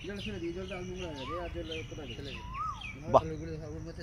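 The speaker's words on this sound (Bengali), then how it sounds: "কোকিল ডাকছে" An Asian koel calls in a village setting, a few rising whistled notes heard among other faint bird chirps, with a voice speaking over them at moderate level.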